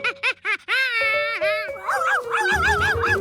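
A puppy yips and whimpers in short high cries, then lets out drawn-out howling whines and barks, close and fairly loud.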